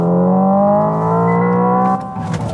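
Hyundai IONIQ 5 N electric car's synthetic engine sound, a loud sustained rising drone that cuts off sharply as a simulated downshift blips, followed by a brief rough burble.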